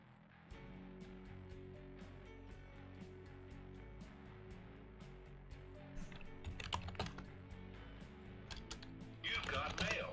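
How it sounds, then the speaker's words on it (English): Rapid clatter of typing on a computer keyboard, close and steady throughout, with a louder burst of clicks near the end; faint background noise sits beneath the keystrokes. "I gotta plug my keyboard back in."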